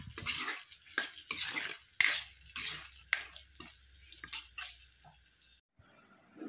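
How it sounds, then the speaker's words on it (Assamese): Pork frying in a pan in a home kitchen, stirred with repeated scraping clatters and bursts of sizzle over a low hiss, close by, with no voices, ending in near silence. "ফ্ৰাই কৰি লওঁ"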